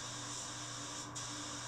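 A PORPHIS PHS-135 spray gun lays down a clear coat, giving a steady, loud, broad airy hiss that runs continuously with a momentary dip in the upper hiss near the end.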